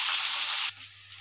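Young jengkol frying in hot oil, giving a dense close sizzle that suddenly drops to a quieter crackle partway through.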